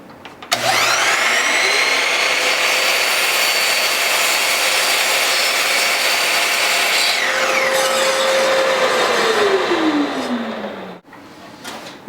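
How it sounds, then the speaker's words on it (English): Miter saw cutting a piece of wood roughly in half, the motor spinning up to a loud steady whine as the blade bites through the board, then winding down with a falling tone before a brief knock. "And now what I'm going to do is I'm going to cut this approximately in half."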